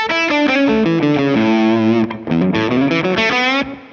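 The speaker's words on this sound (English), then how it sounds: "This is the overdriven uh, like sound from the treble pickup." An overdriven electric guitar on the treble pickup with a bright, trebly tone plays a short run of distorted notes and chords, briefly pausing midway, with no talking.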